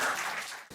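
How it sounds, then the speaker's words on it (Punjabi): A brief burst of audience applause for a student poet at a multilingual poetry gathering: a steady wash of many hands that fades quickly and breaks off. "ਸੋ ਇਹਨਾਂ ਲਈ ਜ਼ੋਰਦਾਰ ਤਾੜੀਆਂ"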